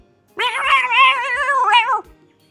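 A cat gives one long, wavering meow lasting over a second and a half, close and fairly loud, its pitch bending up and down before trailing off into quiet.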